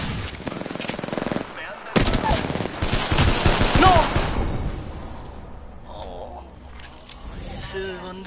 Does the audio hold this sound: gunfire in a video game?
yes